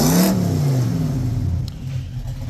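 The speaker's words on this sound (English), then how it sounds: "Give it a rev again." A car engine revs sharply at the start, then drops back and runs at a lower, uneven engine note for the rest of the time, loud and close.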